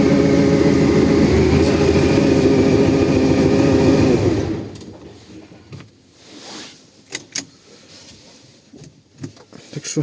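A tractor engine runs loud and close after a cold start at -10°C, a dense roar for several seconds that then cuts off, leaving faint scattered clatter and knocks.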